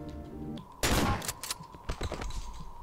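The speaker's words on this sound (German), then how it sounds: "Ein Schuss." A single loud, sharp gunshot in the horror video game Cry of Fear, followed by a few fainter clatters and thumps in the quieter game background.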